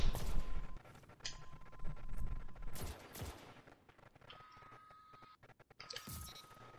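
Competitive Halo-style multiplayer match with volleys of in-game gunshots, several loud bursts spaced across the stretch, the later ones thinner and more scattered, with almost no talking.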